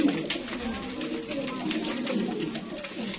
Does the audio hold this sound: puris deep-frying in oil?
no